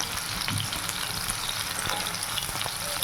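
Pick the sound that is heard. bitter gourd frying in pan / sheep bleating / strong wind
bitter gourd frying in pan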